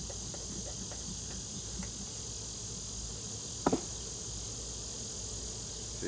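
Honey bees hum steadily at an opened hive during an inspection, a soft continuous insect drone with a brief sharp knock near the middle.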